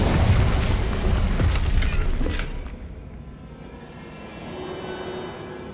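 Incendio fire spell blast in Hogwarts Legacy, a loud burst of boom and crackling debris with mechanical clatter for a couple of seconds, then dropping to a low rumbling tail.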